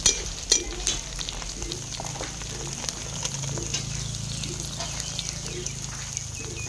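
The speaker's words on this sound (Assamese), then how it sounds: "এতিয়া মই কচুখিনি তেল মাৰিম" Taro frying in oil in a pan gives a low, steady sizzle with light stirring. A few sharp clinks of a utensil come at the start, and no one speaks.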